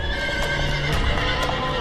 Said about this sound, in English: Suddenly, the horse jerked at its reins and neighed.